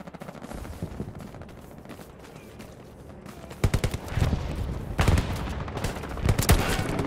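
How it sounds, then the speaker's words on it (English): Gunfire in Hell Let Loose, a WWII shooter: rapid rifle and machine-gun shots crackle near and far, building into louder clustered bursts toward the end. "He just shot the shit out of a teammate."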